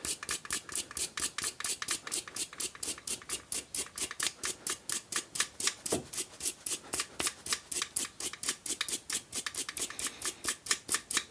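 A brass brush with a little oil scrubs corrosion off the breech face of a Stoeger X20 S air rifle, giving fast, steady back-and-forth scratching strokes, close and crisp, with no talking.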